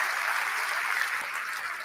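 Audience applause for the Nice Opera Choir at the UEFA Champions League draw ceremony: a dense, steady wash of clapping from a large crowd, sustained evenly at moderate level without voices.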